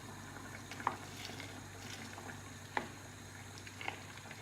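Frozen peas are stirred into a simmering red sauce, giving a faint, low bubbling and soft stirring with a few light spoon taps against the pan.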